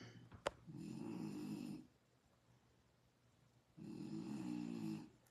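A person snores in two long, droning bursts separated by a quiet pause. The snores are faint and distant-sounding, with a small click just before the first one and no talk.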